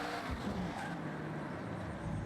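Car engine droning steadily while drifting in the racing video game Forza Horizon 6, a continuous mid-level roar with faint tire noise and no talk over it.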